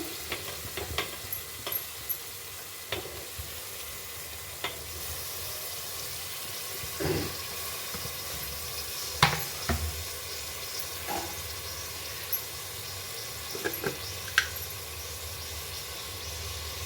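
Tomatoes and fenugreek leaves frying in a pan for a fenugreek pulao, a soft steady sizzle with occasional stirring scrapes and clinks, quiet and close with no talking.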